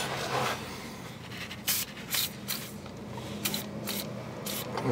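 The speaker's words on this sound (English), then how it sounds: "grab a can of liquid wrench and irrigate that real good" Liquid Wrench penetrating oil sprayed from an aerosol can onto a car's O2 sensor: steady close hissing broken by several short, sharper spurts, with no talking.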